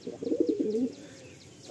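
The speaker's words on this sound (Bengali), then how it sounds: "আপনারা দেখতে পাচ্ছেন যথেষ্ট অ্যাক্টিভ পায়রাটা" Madrasi pigeon of the Fulshira type cooing in a short burst of soft, throaty coos, close by and fairly loud, then falling away into quiet room noise.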